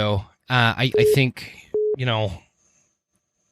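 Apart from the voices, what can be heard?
phone beeping during a recording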